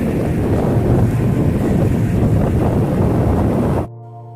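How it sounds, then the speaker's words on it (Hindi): A small waterfall on a little Himalayan river along the Gaumukh trek roars as a loud, steady broadband rush, close and continuous until it cuts off abruptly near the end. "इसी छोटी सी नदी पे एक झरना है, उसकी आवाज़ मैं आपको सुना रहा हूँ।"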